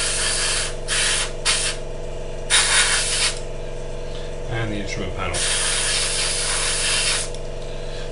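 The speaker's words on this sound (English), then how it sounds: "So we just spray those like that." An airbrush hisses steadily as it sprays paint onto small plastic parts of a 1/48 scale Hasegawa F-4J Phantom model kit, with brief pauses and bursts while someone talks.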